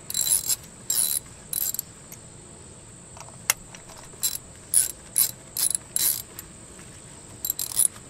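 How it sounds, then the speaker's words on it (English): Ratchet with a 15 mm spark plug socket clicking in bursts while loosening spark plugs on an Audi B5 A4, about ten short bright ratcheting runs separated by pauses, close and clear with no talking. "So I'm gonna grab my spark plug socket and start screwing these off."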